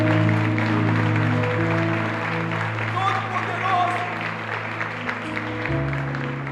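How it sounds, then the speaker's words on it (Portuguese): A church congregation applauds the Lord during a service, a crowd of claps sitting under sustained organ or keyboard chords and a voice, moderately loud throughout. "Aplauda o Senhor,"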